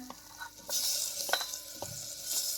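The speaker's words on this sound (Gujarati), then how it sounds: "આ બીટને આ બધું જ આમાં એડ કરી અને આવી રીતે આમ હલાવશું થોડીવાર આપણે સાતડી લેશું આ બધાને" Beetroot, onion, tomato, garlic, ginger and a bay leaf being stirred and sautéed in butter in a pan: a soft sizzle with scraping stirring strokes, fairly quiet and close, with no talking.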